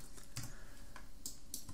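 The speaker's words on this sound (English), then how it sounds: "So you press plus in the keyboard a couple of times." A computer keyboard key is tapped several times in a row, a few crisp clicks spaced unevenly over steady room hiss, close to the mic.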